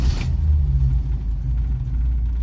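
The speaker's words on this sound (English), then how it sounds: "You can literally flick the key on this thing and it'll start." A 1966 Ford Mustang's carbureted inline six starts, with a brief bright crank at the outset giving way to a low, steady idle rumble close to the car.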